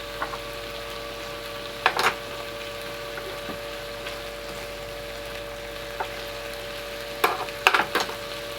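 Eggs fry in a pan, a low continuous sizzle with a couple of louder crackling bursts and faint scrapes, close by and with no talking.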